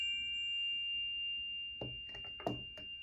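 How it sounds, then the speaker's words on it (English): A metal sound bowl hums with steady ringing tones, then is struck twice in quick succession, each hit a sharp close clang that blooms into the ongoing resonance, in a quiet indoor room. "is going to be the sound bowl"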